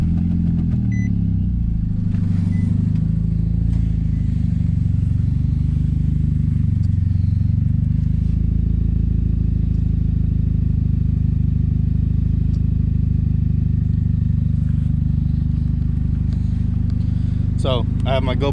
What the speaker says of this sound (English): Let me give you guys a little cold start.